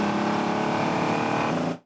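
A car engine drones steadily and loudly at high revs in a driving sound-effect sample, holding one gear throughout before cutting off abruptly at the end.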